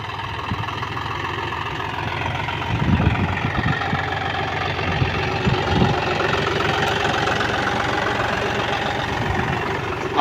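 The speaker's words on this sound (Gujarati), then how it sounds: "અને જોન ડીયરનું 5105 ટ્રેક્ટર છે" A John Deere 5105 tractor sowing groundnuts with an automatic seed drill on 12-inch row spacing drones at a steady, rumbling idle-like pace with knocking texture, continuous and close, with no pause.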